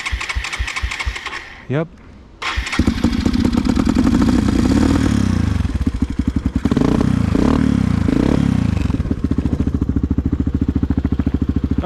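A Suzuki DR 200 motorcycle fitted with a new carburetor cranks a few times, falters, then fires and settles into a loud, steady idle, close to the microphone, with a brief spoken word near the start.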